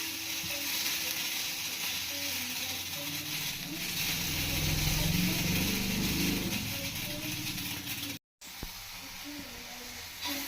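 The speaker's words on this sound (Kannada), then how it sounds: "ಥರ ಹುರಿಬೇಕು ಚೆನ್ನಾಗಿ" Chutney ingredients fry in oil in a pan with a steady, close sizzle and hiss, the crackle swelling mid-way, a brief dropout near the end, then the sizzling resumes.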